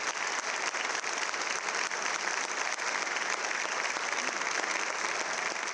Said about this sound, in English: As the documentary ended, it was met with a large ovation from the crowd.